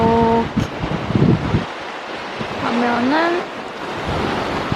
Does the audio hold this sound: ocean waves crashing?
yes